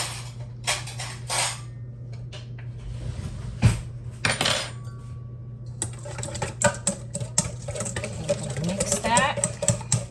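Eggs are whisked with a fork in a bowl, fast rhythmic clicking and tapping against the bowl close by, preceded by some clatter of utensils and dishes.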